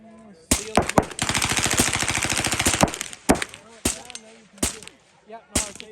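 Gunfire at an outdoor shooting range at Drive Tanks in Uvalde: a loud rapid burst of fire, then several sharp single shots spaced a second or so apart, with people talking in between.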